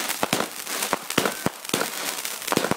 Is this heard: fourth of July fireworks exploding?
yes